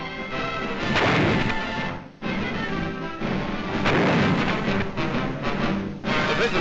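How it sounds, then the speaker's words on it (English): Artillery gunnery demonstration fire in wartime Italy, 1944, heard as a dense, continuous roar of booming and crashing with a brief drop near the middle, loud and filling, with no voices. "They see demonstrations of the excellent gunnery that is contributing to the winning of the war in Italy."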